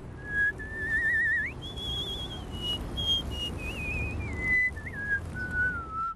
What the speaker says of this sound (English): a professional whistler born with a unique talent